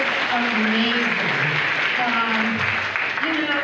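Audience clapping at a national forum's welcome session, sustained and fairly loud, with a voice speaking over the applause for most of its length.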